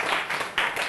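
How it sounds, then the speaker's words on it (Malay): Students in a classroom give a student a short round of applause, a quick, close patter of claps lasting under a second. "Berikanlah tepukan sedikit pada Anas."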